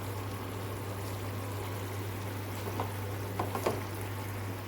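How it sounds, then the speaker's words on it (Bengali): Water runs steadily from a pump into a tank at home, a constant rushing stream with a low hum underneath and a few brief splashes near the end. "পাম্পে জল পড়ছে, পাম্পটা বন্ধ করে দেওয়ার"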